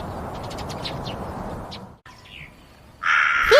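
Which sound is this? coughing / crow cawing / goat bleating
crow cawing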